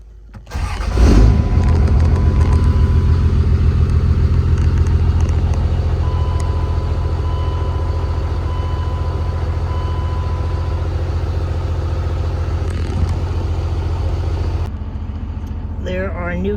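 A car engine cranks and catches after a fuel pressure gauge install, a sharp starter burst settling into a loud, steady close idle hum that continues until a sudden drop near the end.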